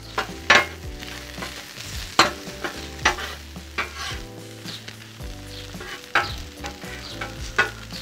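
Diced spicy chorizo sizzling on a Blackstone griddle outdoors, with a spatula repeatedly scraping and chopping against the hot flat-top in sharp, irregular strikes over a steady frying hiss.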